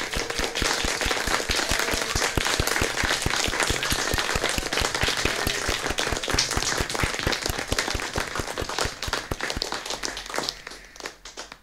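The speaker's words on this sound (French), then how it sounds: "nous applaudissons nos soignantes et nos soignants" Rhythmic unison clapping for caregivers, loud and evenly spaced beats continuing for about ten seconds before tapering off.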